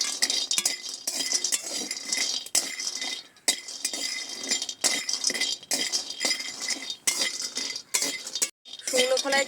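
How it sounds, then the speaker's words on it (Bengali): Dried lentil dumplings (bori) being stirred in a hot dry wok, a busy run of scraping and clinking from the utensil against the metal, fairly close and continuous with short pauses. "বড়িগুলো শুকনো খোলায় একটু নেড়ে চেড়ে নেব।"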